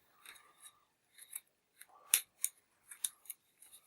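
Scissors snipping away excess crepe paper from a handmade poppy flower, a series of close, crisp cuts and short rasps separated by brief pauses in a quiet room.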